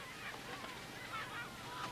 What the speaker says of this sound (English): The seagulls enjoy the scraps that are thrown overboard.